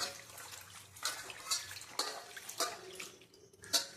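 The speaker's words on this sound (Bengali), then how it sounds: "এবার জল ছেঁকে পাতাগুলোকে তুলে নিতে হবে।" Washed bottle gourd leaves being drained of water, with soft irregular drips and splashes in a quiet kitchen, several louder spatters standing out over a faint watery background.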